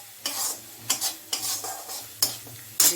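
Spice paste is stir-fried in a pan, a few pomfret fish having just been fried, with repeated scraping strokes of a spatula in an uneven rhythm over a low sizzle, close and fairly loud.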